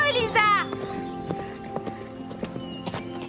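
Hooves of a ridden horse clip-clop in a steady walking rhythm, close and distinct, opening with a brief whinny and under background music.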